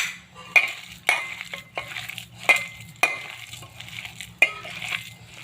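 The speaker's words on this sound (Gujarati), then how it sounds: "હવે આપણે આને હાથથી મિક્સ કરી લઈશું।" Vegetable paneer pakoda batter being mixed by hand in a bowl, with soft wet squelching and pressing sounds and a sharp tap against the bowl about every half second to second, close and clear.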